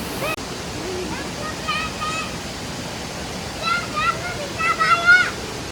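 The Gurje waterfall in Nepal rushes in a constant loud hiss, with people's voices talking over it now and then.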